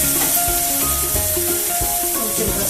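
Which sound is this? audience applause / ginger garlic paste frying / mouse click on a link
ginger garlic paste frying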